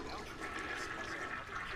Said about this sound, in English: There we go again, a toilet flushing.